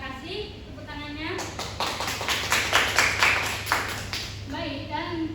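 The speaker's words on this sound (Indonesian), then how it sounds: "Tepuk tangannya." A classroom audience bursts into applause, a dense patter of many hands clapping for a few seconds, with voices speaking just before and after the clapping.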